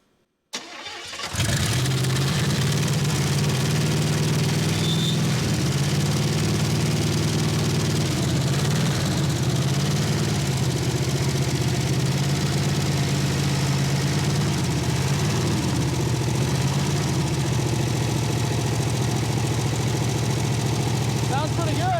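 A 1969 Chevrolet El Camino V8 from a long-stalled restoration project starts and settles into a steady, loud, rumbling idle that holds for about twenty seconds.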